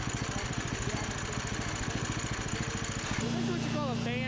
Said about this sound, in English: is what you call a bandsaw mill